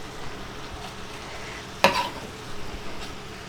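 Garlic frying in a pan for vegan chickpea and cauliflower tikka masala, with a soft steady sizzle and one sharp scrape of stirring midway, close and without talk.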